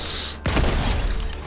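An explosive shotgun in Fortnite fires once with a sudden, loud blast after a brief quiet moment. A rumbling boom follows and fades away.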